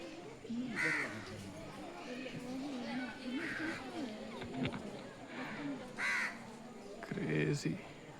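Several crow-like birds caw in short, repeated bursts at Ranganathittu bird sanctuary, moderately close, while people talk throughout.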